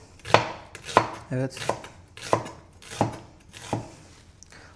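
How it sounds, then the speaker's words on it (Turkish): Sweet onions cut with a knife on a board for Hyderabadi dum biryani: six or seven sharp, evenly spaced chops, close and distinct, with a brief spoken word between them. "Soğanları kesiyorum."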